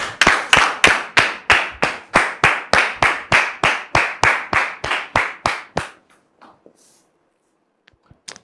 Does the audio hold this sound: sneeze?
no